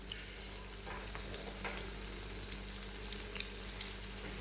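Green peas fry in hot oil with a steady, soft sizzle and a few faint crackles and pops. It carries on evenly throughout.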